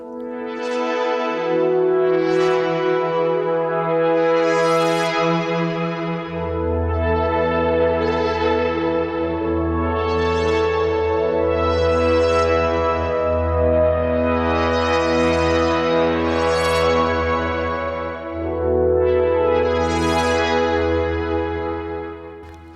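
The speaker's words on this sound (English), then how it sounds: "that's just the built-in reverb of the Osmose, which sounds really gorgeous" Lush chords from an Osmose synthesizer swell and overlap, each note trailing into its built-in long, spacious hall reverb that washes over the next; loud and sustained, no voices.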